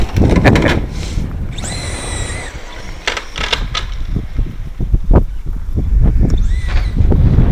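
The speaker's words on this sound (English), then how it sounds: "now the fucking wind's picking up" Gusty wind buffets the microphone outdoors at an off-road RC test session for an Associated DR10 car, a loud steady rumble with scattered knocks and clicks, rising again toward the end.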